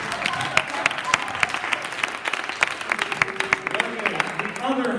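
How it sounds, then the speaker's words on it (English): Audience clapping after an improv comedy scene, dense and steady with sharp individual claps standing out, with voices talking over it near the end. "give him a round of applause"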